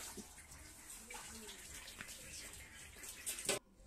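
Water splashes faintly and irregularly as someone bathes, with a louder, brief splash near the end.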